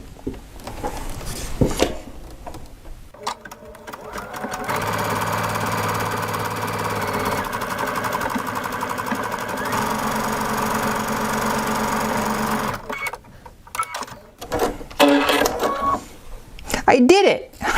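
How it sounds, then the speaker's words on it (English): A sewing machine runs steadily for several seconds while stitching decorative motifs along a fold of fabric set on stabilizer, a loud mechanical hum framed by brief talk and handling noise before and after. "So let's stitch right along in here and see what we get."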